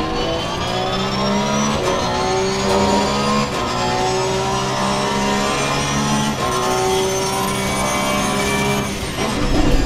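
Race car engine lapping the Nurburgring in the racing game Assetto Corsa Competizione, a steady loud mid-pitched drone with sustained revs and gear-held tones, briefly rising near the end, with no talking.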